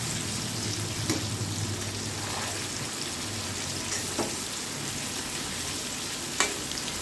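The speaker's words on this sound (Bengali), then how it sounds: "এবার আমি ইঁচড়গুলো ভালো করে দিয়ে ভেজে নেব।" Young jackfruit pieces frying in hot oil give a steady, close broadband sizzle across the whole stretch, with a few soft clicks and utensil taps now and then.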